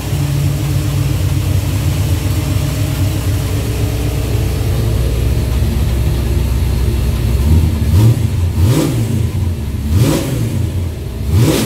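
A car engine revs hard on the throttle, loud and close, with a steady drone that swells into several sharp rising surges toward the end.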